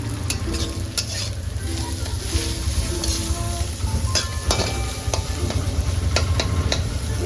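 Chopped onion with salt and crushed garlic fry in a hot pan, giving a steady, close sizzle throughout, with scraping stir strokes and occasional clinks of a spatula against the pan.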